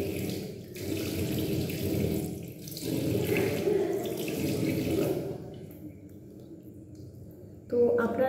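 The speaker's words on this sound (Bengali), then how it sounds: "তো এটা জাস্ট ধোয়ার পর নেক পোর্শনটা আমরা ধুয়ে নেব।" Tap water runs steadily into a sink while a neck is rinsed, a close, continuous flow that pauses briefly, quiets toward the end, then resumes with a sharper splash.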